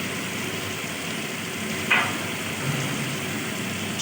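A spice paste of turmeric, cumin and coriander fries in oil for an egg curry, a soft, steady sizzle up close with one brief scrape of stirring partway through.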